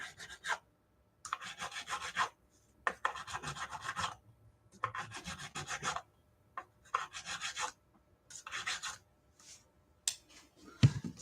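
Crowning file worked over guitar frets on a neck, giving a series of rhythmic raspy strokes in short bursts separated by brief pauses, close and fairly quiet.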